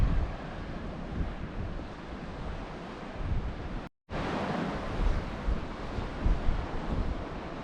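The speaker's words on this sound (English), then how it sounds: "Yeah, this is the Irish Sea." Surf of the Irish Sea breaking at Hilbre Island, a steady broad wash of waves with wind buffeting the microphone, unbroken except for a brief dropout in the middle.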